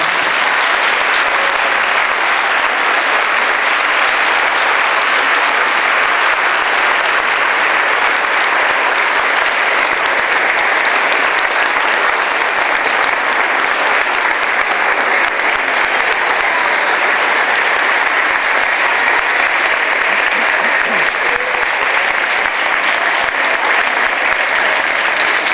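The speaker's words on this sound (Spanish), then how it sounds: "Y con un fuertísimo aplauso recibimos a las banderas de ceremonia." Sustained, loud applause from a large crowd greets the ceremonial flags at a school flag-bearer ceremony, a dense, even wash of clapping that continues unbroken for the whole stretch.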